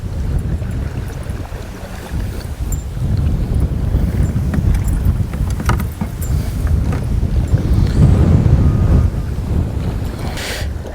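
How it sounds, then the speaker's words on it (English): Strong wind gusts roar steadily across an open lake on a cold fall bass-fishing outing, buffeting the microphone with a dense low rumble and water lapping against a boat, building toward the end. "The wind should keep cranking as it's doing"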